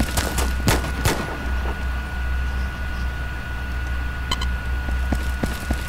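Gunfire in a Halo roleplay video game, scattered sharp shots cracking out at close to mid range over a steady low rumble, with a denser burst near the start and a few isolated reports later.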